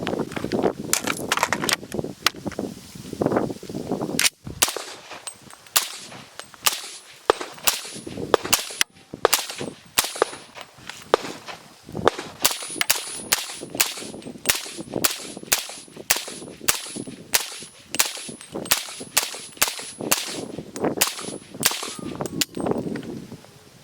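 A suppressed 300 Blackout PSA JAKL rifle fires repeated sharp cracks with metallic clangs, in irregular bursts and single shots, some close together, with brief pauses between strings.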